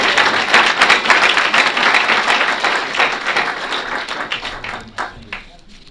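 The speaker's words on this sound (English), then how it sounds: "Please join me in another round of applause." A sustained round of applause from a crowd at a school board meeting, steady clapping that fades slightly toward the end.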